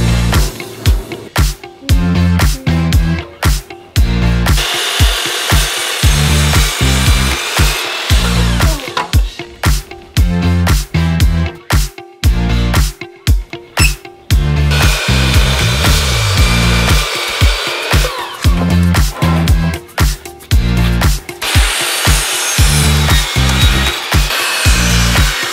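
Sawing through 2x6 wood boards for a large china cabinet base, with repeated stretches of loud, steady cutting broken by short pauses between cuts, close up and with no talk.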